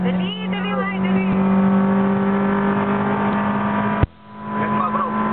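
Honda Civic racing and overtaking at a track event, a sustained close engine drone with a steady pitch, a sharp bump near the end, then a lighter tail with voices in the background.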